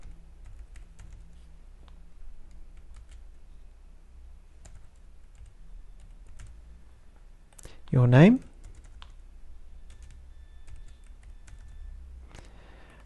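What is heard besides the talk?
typing on a computer keyboard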